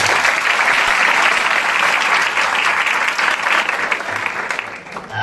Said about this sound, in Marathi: लक्षा मामासाठी जोरदार टाळ्या करा.